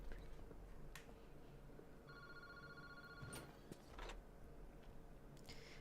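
A telephone rings in the horror video game Paranormasight, a faint, brief trilling ring sitting under a busy, noisy ambient background with a few sharp clicks and knocks.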